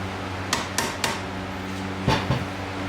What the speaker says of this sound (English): Give them a little taps just to make sure.